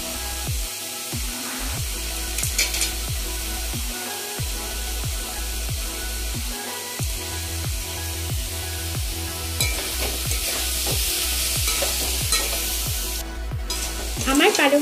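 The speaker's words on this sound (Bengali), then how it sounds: "এবার আমি বড়িগুলো এর মধ্যে মিশিয়ে দিচ্ছি" Spinach with crushed lentil dumplings, alongside potato and eggplant, fries in a pan with a steady sizzle while a utensil scrapes and stirs in a quick regular rhythm, loud and close, with no talking.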